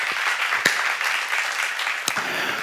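A church congregation claps together during a sermon, a dense, steady wash of applause with a couple of sharper claps standing out, filling the room without talk over it.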